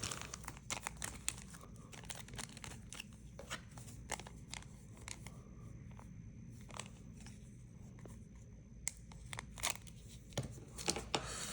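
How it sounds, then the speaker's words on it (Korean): Scissors slowly cutting open a foil KBO baseball card pack, with sporadic crisp snips and crinkling of the wrapper, close and fairly quiet, plus a few rustles between cuts. "이게 생각보다 제가 좀 가위로 잘 안 잘라봐서 오래 걸리네요."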